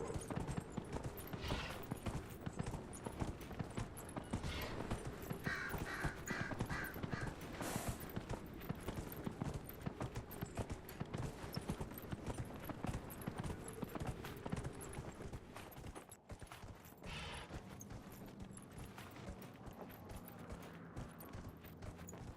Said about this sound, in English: the horses in this game, I feel, are similar to, you know, the Skyrim horses